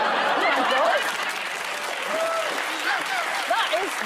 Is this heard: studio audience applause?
yes